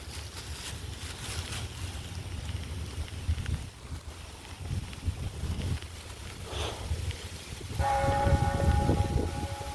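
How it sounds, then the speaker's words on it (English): A bell rings outdoors at Fort Halifax on a very windy day, its sustained tones rising over steady wind rumble during the last two seconds. "There's a bell coming through."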